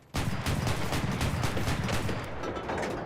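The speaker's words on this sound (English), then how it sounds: "Use our machine gun to finish him" Sustained machine gun fire from an Autoblinda 41 armored car in War Thunder, a loud, steady stream of rapid shots starting abruptly and continuing unbroken, with mechanical rattle underneath.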